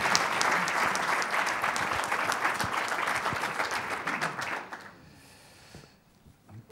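An audience applauds steadily at a public forum event with Spain's agriculture minister Luis Planas, a dense, fairly loud wash of clapping that fades out after about five seconds into near silence.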